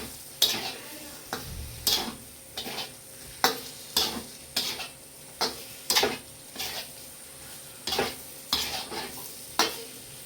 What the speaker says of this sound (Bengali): সমস্ত সোয়াবিন দিয়ে আর একটু সামান্য জল দিয়ে আগে একটু নাড়বো